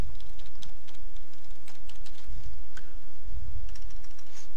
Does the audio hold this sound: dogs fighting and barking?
no